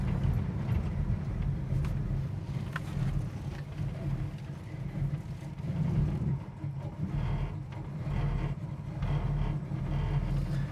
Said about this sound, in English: we're doing about 500 RPM, so it's got a really nice low idle, but then you can really hear the sound of that cam, the lope of it.